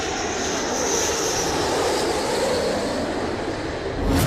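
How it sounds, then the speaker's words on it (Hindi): A B-1 bomber's engines roar as a steady, loud broadband rumble and whoosh, unbroken throughout and swelling slightly at the end, with no voices. "B-1 बॉम्बर इस मिशन के लिए ब्रिटेन पहुंच चुका है।"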